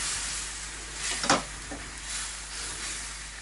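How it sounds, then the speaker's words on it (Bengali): Bengali home kitchen: drumsticks (sajna) poured into hot spice paste in a pan, giving a steady faint sizzle with a brief louder hiss burst as they land, no talking. "এই পর্যায়ে আমি সেজনাটা মশলাটাতে ঢেলে দিব।"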